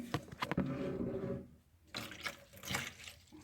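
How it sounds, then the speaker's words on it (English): Water poured from a container into a tray holding peperomia pots for bottom-watering, a close splashing gush that pauses briefly and then resumes. "My husband is adding some water."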